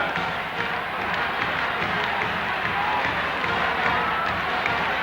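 A packed arena crowd at the 1971 Intervilles final between Dax and Carcassonne roars, shouts and applauds continuously, a dense wall of cheering with scattered clapping throughout.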